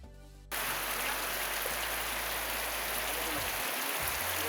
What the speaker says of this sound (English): As we were having lunch, the rain started.